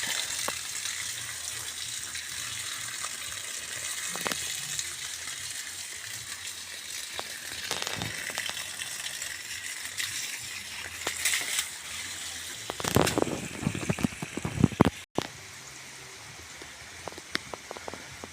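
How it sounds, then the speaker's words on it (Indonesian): Water from a 3/4 inch hose splashes steadily around durian trees in an orchard, a soft continuous hiss and patter with a few louder splashes and knocks toward the end. "Ada juga beberapa pohon durian yang saya siram menggunakan selang seperti ini, ukuran 3/4."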